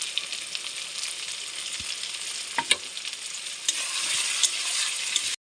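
Masala frying in a pan with Kashmiri dried chili and cumin paste for mutton curry, a dense, bright sizzle that swells louder near the end, marked by scattered crackles and stirring taps, then cuts off abruptly.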